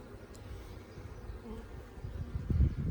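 Honey bees in an opened top-bar beehive give a soft, continuous buzzing hum close by that swells louder toward the end.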